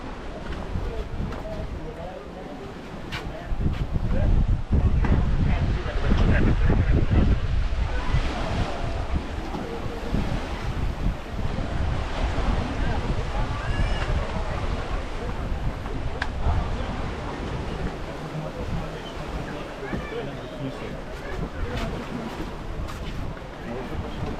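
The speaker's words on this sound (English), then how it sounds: "Today is a little bit windy, so the water is a little bit more rough" Gusty wind buffets the microphone over the steady wash of choppy sea waves at a beach in Antalya, loud and close, with a voice talking faintly underneath.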